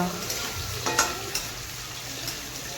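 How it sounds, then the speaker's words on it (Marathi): Capsicum and carrot sizzle and fry in a pan while being stirred, with a steady hiss and a few scraping clicks of the spatula, fairly close, with no talking. "फ्राय करून घ्यायचे सगळी भाज्या आपल्याला"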